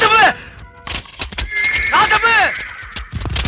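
In a Tamil classic film action scene, horses arrive with repeated loud neighing and whinnying over clip-clop hoofbeats, mixed with shouting voices and talk.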